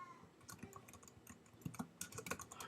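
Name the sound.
typing on a computer keyboard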